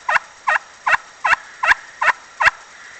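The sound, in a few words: turkey call device imitating an old hen turkey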